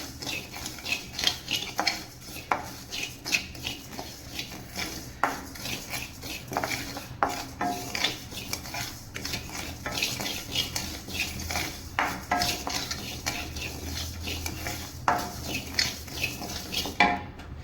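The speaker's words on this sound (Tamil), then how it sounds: "இந்த மாதிரி நல்லா ப்ரௌன் கலர் வர மாதிரி வறுக்கணும்" Black gram dry-roasted in a pan for laddu, stirred continuously with a utensil: repeated close scraping and metallic clinks against the pan in an irregular rhythm, with no talking.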